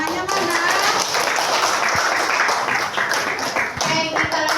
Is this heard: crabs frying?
no